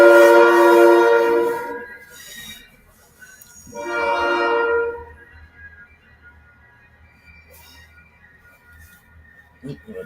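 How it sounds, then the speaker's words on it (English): A train horn sounds loud and close at a rail depot, two long harmonic blasts: a sustained one over the first two seconds, then a shorter repeat around four seconds, before fading to a low rumble of the railway. "as if the train whistle wasn't bad enough"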